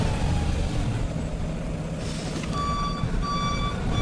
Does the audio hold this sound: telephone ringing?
no